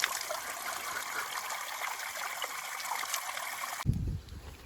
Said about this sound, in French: Regardez, une source d'eau.